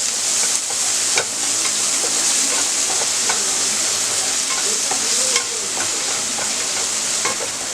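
Finely chopped onion with a little salt sautés in a pan toward browning, a continuous close sizzle broken by frequent scraping and clicking stirring strokes, with no voices.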